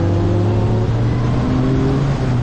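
A Formule Renault race car's engine drones loudly and steadily from inside the car as an F4 car overtakes, the tone holding a sustained, buzzy pitch with slight wavering.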